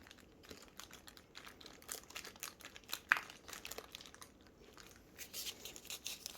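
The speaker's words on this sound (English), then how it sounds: "Let me get some more tape." Tape being handled and crumpled while shaping a druzy crystal resin trinket bowl mold: quiet, irregular crinkles and soft crackles scattered throughout, with a sharper snap near the middle and no talking.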